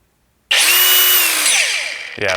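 Milwaukee M18/M12 cordless cut-off tool switched on, a loud high-pitched whine that spins up abruptly at a single fixed speed, holds steady, then winds down as it is released.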